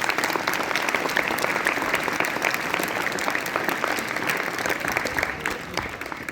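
A school audience at S.M International School in Julana breaks into loud, sustained applause. Dense, steady clapping from many hands fills the room without a break for several seconds, fading slightly at the end.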